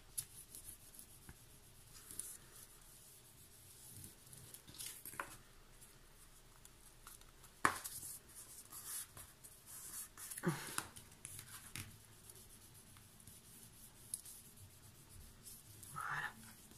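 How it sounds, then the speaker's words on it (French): Pencil marking on a cardboard box lid, faint scratchy strokes in short bursts with a few louder rubbing and handling sounds, close and quiet with no talking. "Je vais marquer au crayon de papier."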